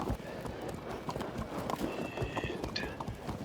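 Light horse cavalry in the Field of Glory 2 strategy game, with steady trotting hoof clip-clop and an occasional whinny over a dense battlefield ambience, playing continuously without speech.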